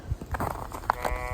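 Sheep bleat on a slippery farm, several short, close calls overlapping with soft shuffling, one bleat standing out louder midway.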